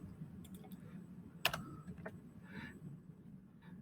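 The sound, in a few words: typing on a computer keyboard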